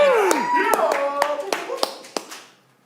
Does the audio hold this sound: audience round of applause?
yes